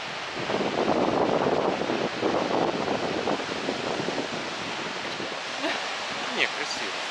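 Waves on the Baltic Sea break and wash below a high cliff at Svetlogorsk, a broad rushing surge heard from above, heavily buffeted by wind on the microphone with people speaking at times.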